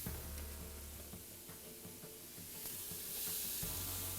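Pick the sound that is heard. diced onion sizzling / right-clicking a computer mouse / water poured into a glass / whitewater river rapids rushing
diced onion sizzling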